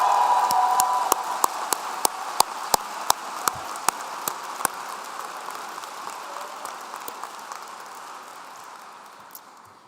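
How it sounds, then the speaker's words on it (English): Applause from a large commencement crowd in a big hall, a wash of distant clapping with a few sharp nearby claps early on, slowly fading away. "How about a round of applause for them?"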